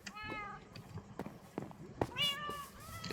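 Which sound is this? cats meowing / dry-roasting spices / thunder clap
cats meowing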